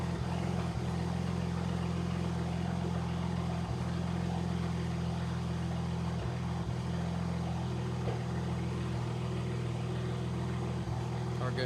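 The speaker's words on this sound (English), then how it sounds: "Wait for it to idle down. Definitely a misfire present." A BMW with the N54 engine idles with a misfire, a steady low rumble heard close and continuous, with faint irregular dips and stumbles breaking the even drone.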